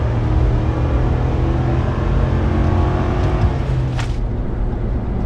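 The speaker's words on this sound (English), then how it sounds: "I'm not sure if you guys heard that tire squeal" 2025 RAM Rebel pickup with the 3.0L twin-turbo inline-six and 8-speed transmission accelerating hard in a 0-60 run, a loud continuous engine roar heard from inside with a brief high squeal near the end.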